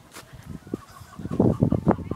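Farm fowl, chickens in and around a small pen, give a burst of loud, close honking clucks and squawks in the second half, after quieter scattered calls, with a faint voice in the background.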